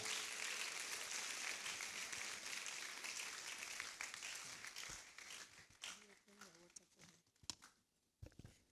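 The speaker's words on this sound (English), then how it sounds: "with a round of applause, please, let's welcome our first speaker" An audience applauds steadily to welcome the first speaker at a university law faculty conference, a dense wash of clapping that thins and breaks apart toward the end as a voice begins.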